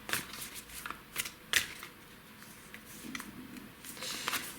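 Tarot cards are shuffled by hand in several quick riffling bursts, close and crisp, separated by short pauses in a quiet room.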